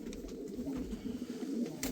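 Mardin pigeons in a crowded loft coo in a low, continuous, rolling murmur, soft and close, with faint rustling underneath.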